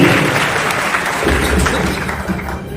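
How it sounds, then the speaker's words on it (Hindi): Sustained audience applause fills a school or community gathering hall in Aligarh after a guest is introduced, steady dense clapping close by for the whole stretch with no talk over it. "जोरदार तालियां"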